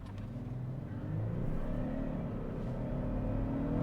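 Twin-turbo 3.4-liter V6 in a 2025 Lexus LX 700h hybrid revving in sport mode, a close, low rumbling engine note that swells as it climbs in pitch over a few seconds, with no talking.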